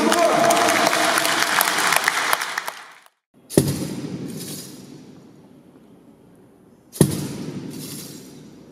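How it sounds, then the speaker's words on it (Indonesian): Applause rings out for a graduate at a graduation ceremony, a dense burst of clapping that fades out, then two more sharp rounds of crowd clapping swell and taper off. "Kita berikan aplaus kepada Jennifer Situmorang."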